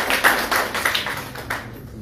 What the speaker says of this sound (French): il mérite un tonnerre d'applaudissements encore